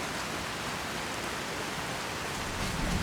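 Steady rain falls in a modded Skyrim game world, a dense, even hiss of drops on surfaces with a low rumble underneath, continuous and fairly loud with no voices.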